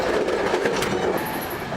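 An empty train runs along the rails with a steady close rumble, faint rhythmic clicking of wheels and a brief high squeal near the end, no voices.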